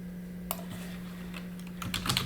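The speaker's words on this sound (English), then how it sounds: "I'm going to type in" A computer keyboard clicked in short, scattered keystrokes while a file name is typed, close and fairly quiet over a constant low electrical hum.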